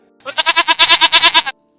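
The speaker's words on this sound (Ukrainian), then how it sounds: "коза як замекає" A goat bleats once in a loud, close, wavering call of about a dozen rapid pulses, heard alone without other sounds.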